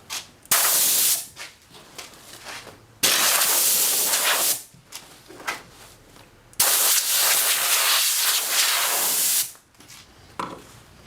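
A repaired air compressor with a new air filter runs in a test, giving loud hissing bursts of air that start and stop abruptly several times.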